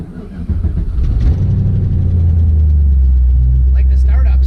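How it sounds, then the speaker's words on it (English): Twin-turbo Nissan 350Z engine cranking and catching, then settling into a loud, steady low rumbling idle close by, with a voice talking faintly over it near the end. "like the startup sounds and seems good, and it idles in a good spot"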